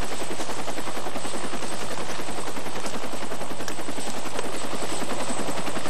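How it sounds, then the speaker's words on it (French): A landed military helicopter keeps running, its rapid rotor chop and turbine whine forming a loud, continuous, pulsing roar up close. "Une fois que l'hélicoptère s'est posé, il amène ses troupes à la position d'embarquement."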